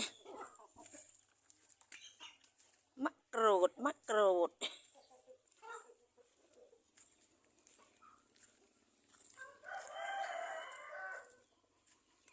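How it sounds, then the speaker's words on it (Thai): Chickens in a farmyard, a rooster crowing loudly in the middle and hens clucking later, with someone talking quietly at moments. "ไก่เยอะไก่เยอะ"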